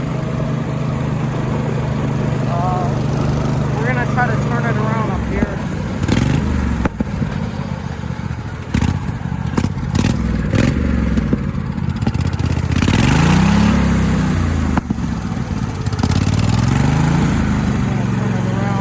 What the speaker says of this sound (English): Yeah, it's called a Dynamark. That's what the name of the lawnmower is.